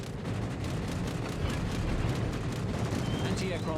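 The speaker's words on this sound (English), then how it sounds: "that's a pretty juicy salvo there" Heavy battleship gunfire in World of Warships from the Thunderer, a dense rumbling salvo of booms rolling continuously for several seconds with a few whistling shell sounds near the end.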